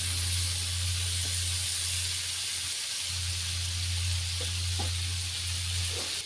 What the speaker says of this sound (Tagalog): Ngayon ay pinaprito natin sa margarine.